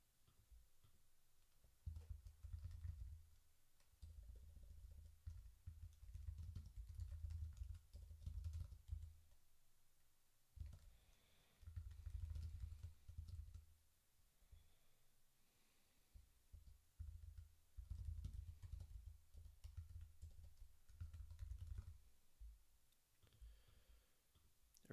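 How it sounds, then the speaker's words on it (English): Steady typing on a computer keyboard, with continuous close key clicks in bursts separated by brief pauses, fairly quiet and with no voices. "let's just type it out"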